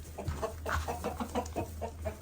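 Backyard chickens cluck near a compost area and nesting boxes, a run of short, close, repeated clucks in an uneven rhythm over a low steady hum.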